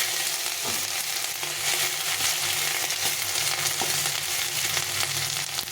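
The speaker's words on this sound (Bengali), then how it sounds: "একটু হালকা একটু ভিজে নিতে হবে খুব ভাজা যাবে না" Crushed ginger and asafoetida fry lightly in hot oil in a pan for a Malabar spinach and pumpkin curry. The sizzle is loud and continuous, broken by a few faint stirring knocks, with no talking.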